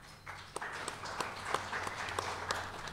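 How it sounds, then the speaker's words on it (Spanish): A smaller audience at an academic session claps after a panel of speakers, sparse individual claps standing out sharply over a soft, uneven patter. "Un aplauso,"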